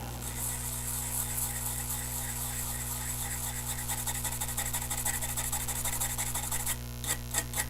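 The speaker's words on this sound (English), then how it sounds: "Break out the toothbrush and" A toothbrush scrubs old flux off a circuit board in steady, rapid rasping strokes, close and continuous over a constant electrical hum, ending in a few sharper scrapes.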